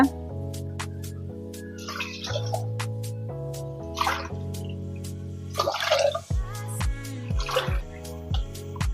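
Water pours in a few splashy bursts into a pot of millet rice being prepared for pongal, heard over steady background music.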